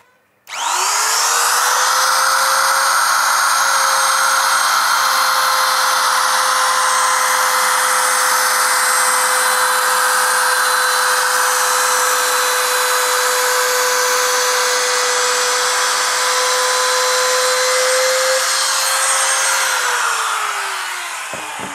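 A DongCheng DMP04-6 trimmer fitted with a 25-degree bearing-guided V bit routes the edge of an HPL laminate sheet. A loud, steady high-pitched motor whine spins up, holds for about twenty seconds, then winds down.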